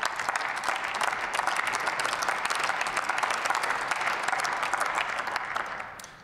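Sustained applause fills the German Bundestag chamber during a remembrance of the war victims in Bosnia and Herzegovina, a dense, even roar of many hands that carries on for several seconds before tapering off at the end.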